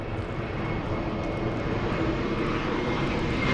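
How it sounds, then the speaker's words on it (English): American Airlines flight 442, an airliner arriving at LAX from DFW, gives a continuous mid-distance engine roar, steady and moderately loud throughout, with no voices. "We have American 442 flying in from"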